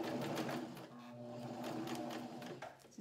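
A sewing machine stitches an in-the-hoop bib, humming in a steady, even run of close rapid stitches, fairly quiet and alone.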